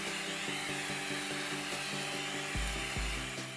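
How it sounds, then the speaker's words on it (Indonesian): Xiaomi Mi Vacuum Cleaner Mini running on its first, lower speed while sucking up cake crumbs: a steady, close motor whine with a harmonic hum that holds throughout, and brief low thumps near the end as the nozzle moves. "Mi Vacuum Cleaner Mini sukses membersihkan remah-remah kue dengan cukup cepat"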